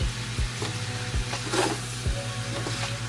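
Meat simmering in soy sauce in a frying pan while humaba is cooked, giving a steady close sizzle and bubbling with a few soft scrapes and clicks, no voices.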